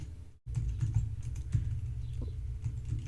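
Quick, steady typing on a computer keyboard during a coding session, close and clear with rapid key clicks, a brief gap near the start, and no talking.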